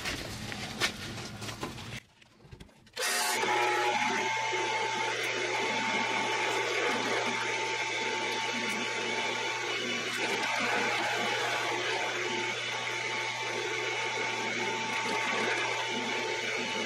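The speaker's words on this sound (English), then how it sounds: "Now we gotta drill some holes for the rivets." A drill bores rivet holes through a horse's hoof pad during shoeing, with a steady whirring drone that starts abruptly after a brief pause and runs on continuously.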